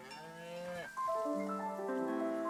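Cows left behind by evacuated owners in a flood zone low in two drawn-out moos, the second rising and holding longer, heard alone and somewhat faint.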